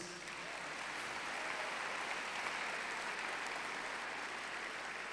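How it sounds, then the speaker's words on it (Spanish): A church congregation applauds during a service, a steady, uniform wash of clapping held for several seconds, fairly soft and roomy, with no speech over it. "¿Por qué no se dan un aplauso a ustedes?"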